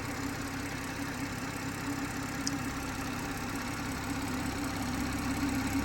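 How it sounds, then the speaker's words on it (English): A 2019 BMW M140i's 3-litre straight-six twin-scroll turbo engine idles smoothly and steadily with a low, even hum and no voices, holding a constant level throughout. "Beautifully smooth engine, the 3 litre straight six with a twin scroll turbo"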